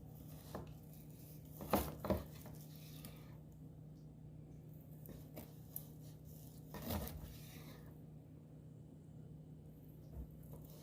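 A sharp knife cuts through competition-style BBQ ribs, sometimes through bone, on a board, giving a few quiet, scattered chopping and scraping strokes with pauses between them.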